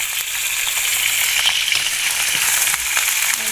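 Onion, ginger and split green chillies frying in a pan for a fish curry, a loud, dense, steady sizzle with light crackling throughout and no talk.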